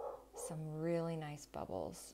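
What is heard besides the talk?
dog barking in the background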